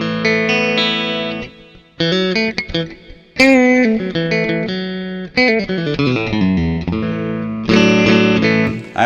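Electric guitar on a Strat-Tele hybrid, neck humbucker outer coil, played solo with a bright, slightly hollow clean tone, strummed chords and short picked phrases with pauses between them.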